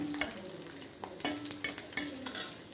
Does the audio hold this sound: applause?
no